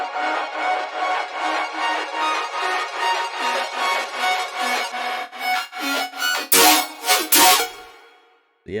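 Processed chime loop with bright, shimmering metallic tones repeating in a steady pulsing rhythm, then breaking into denser, noisier bursts before cutting to silence.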